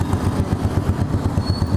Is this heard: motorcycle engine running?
yes